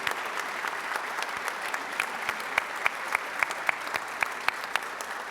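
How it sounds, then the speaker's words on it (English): Audience at a Rotary club meeting applauding after a musical performance, steady clapping from a room of people with individual claps popping out near the end, moderately loud and without talk. "Let's give him a round of applause."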